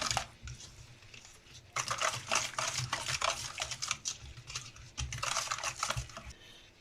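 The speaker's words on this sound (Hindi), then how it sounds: "नमक डालेंगे, और इसको जो है वो अच्छी तरह हम मिक्स कर लेंगे।" Yogurt seasoned with dahi bada masala and salt is stirred in a bowl, giving soft, quick scraping and tapping strokes in uneven bursts, fairly faint and close, with no talking.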